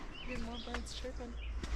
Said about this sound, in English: More birds chirping.